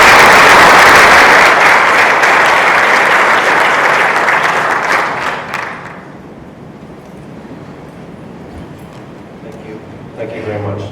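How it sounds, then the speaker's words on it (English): A conference keynote audience claps loudly and densely for several seconds, the applause thinning and fading into quiet room murmur, with a voice coming back in near the end. "Put your hands together. A round of applause for that."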